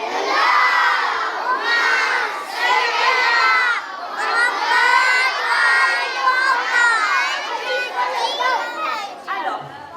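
A loud crowd of children at a madrasa in La Réunion chanting together in unison, their voices sustained and rhythmic with rising and falling phrases throughout, close and energetic.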